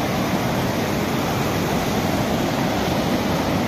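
Kali river rushing past a riverbank in Uttarakhand during heavy rain, a loud, steady roar of flowing water with no voices.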